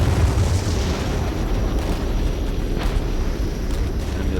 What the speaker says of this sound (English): Oh, enemy airstrike.